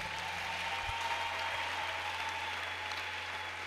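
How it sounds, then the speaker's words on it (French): A church congregation claps steadily, a dense, even wash of applause from many hands filling the room at moderate volume without pause. "Acclamons le Seigneur."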